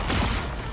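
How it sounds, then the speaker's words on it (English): A dense, loud burst of pulse cannon fire in a video game, rapid overlapping blasts filling the short moment without a break. "Pulse cannons in. Maximum pulse!"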